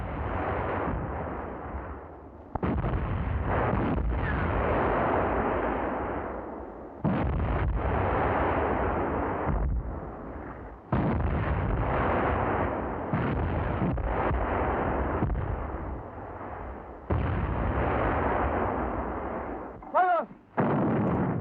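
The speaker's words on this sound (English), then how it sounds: "Mountain artillery." Mountain artillery firing for effect: a series of heavy, booming gun reports in separated bursts, each a loud blast with rolling decay, with a sharper crack near the end.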